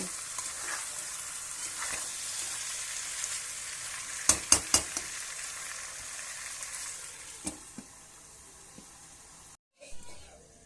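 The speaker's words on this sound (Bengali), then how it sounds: "মাংসটা আমি ভালো করে ঢাকা দিয়ে দিয়ে কষাতে থাকব" Chicken sautéing in a covered pan, a steady low sizzle running throughout with a few sharp stirring clicks and knocks, then a brief drop and a clatter near the end as the lid is handled.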